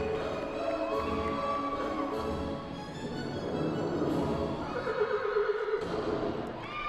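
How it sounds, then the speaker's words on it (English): A long, shrill Bronco horse whinny closes a college gymnastics floor routine's music in an arena, heard over the fading music with a cheering crowd around it. "Her music ends with the Bronco horse."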